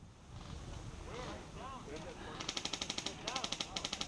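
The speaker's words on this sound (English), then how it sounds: "No, he was just shooting." Airsoft guns fire during an outdoor game, first as scattered soft pops, then as fast rhythmic bursts of rapid cracks near the end, with people talking and shouting close by.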